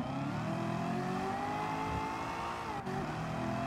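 Car engine in Gran Turismo 7 holding a steady, loud drone under throttle, with smooth rising harmonics and a brief dip near the end, no talking.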